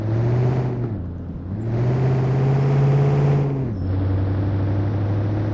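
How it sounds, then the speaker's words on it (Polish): A MAN truck engine in Truck & Logistics Simulator drones loudly and steadily while climbing uphill, pitch rising through the gears with two brief dips as it shifts. "naprawdę brzmi jak sześciocylindrowa benzyna"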